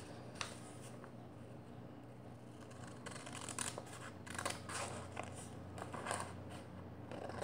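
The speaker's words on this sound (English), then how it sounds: "You're going to want to cut this rectangle off with a pair of scissors." Scissors snip through paper in a series of quick, close cuts, quiet at first, then a cluster of crisp snips.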